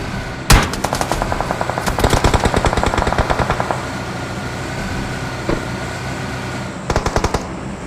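Automatic gunfire in the mobile battle royale game PUBG Mobile, loud and close: rapid bursts of shots rattle off in long rhythmic strings, then pause, with one more short burst near the end.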